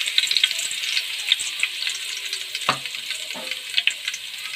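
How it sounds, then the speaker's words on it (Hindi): Garlic dropped into very hot oil with cumin for pasta biryani, giving a bright close sizzle with crackling pops and a couple of brief stirring scrapes, no speech. "अब हम इसमें ये लहसुन डालेंगे"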